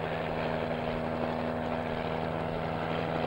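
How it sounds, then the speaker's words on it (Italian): A helicopter carrying kerosene drums flies toward an oil field camp in the desert, a steady loud drone with a constant engine hum and no talk. "L'elicottero sta compiendo la sua missione."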